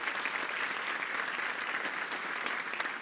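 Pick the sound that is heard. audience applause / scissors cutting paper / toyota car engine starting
audience applause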